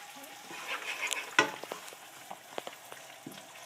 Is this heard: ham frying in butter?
yes